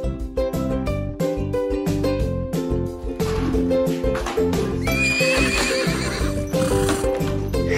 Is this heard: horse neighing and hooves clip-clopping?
yes